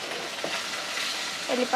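Green chillies and curry leaves sizzle in hot oil, a dense near crackle with brief stirring scrapes, rising slightly at the close.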